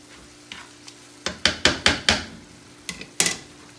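Lamb cooks with wine in a pan, a quiet sizzle under a run of sharp, close knocks and scrapes as a utensil strikes and stirs the pan, about eight distinct hits in a few seconds, no talking.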